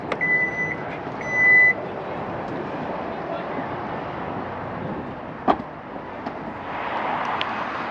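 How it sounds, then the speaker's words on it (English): A 2023 Kia Niro SX Touring hybrid's power hatch sounds a few high warning beeps, followed by a low steady motor hum as it closes and a short thud near the end, heard outdoors over faint background noise. "to close the hatch, just press this button here."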